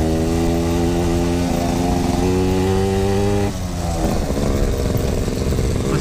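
A Yamaha RX King two-stroke motorcycle engine runs close by, a loud buzzy idle with rapid revving and a rough, crackling change in tone partway through.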